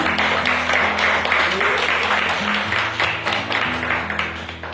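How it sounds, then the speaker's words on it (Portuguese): A church congregation claps loudly and continuously in a dense, sustained burst of applause, with a low musical tone droning underneath and some voices mixed in. "Dê uma salva de palmas bem forte"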